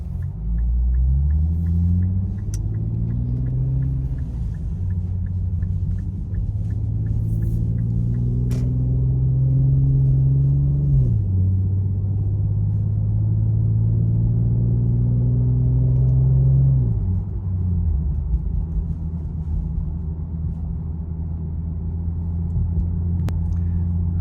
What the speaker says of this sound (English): the car will downshift automatically by itself.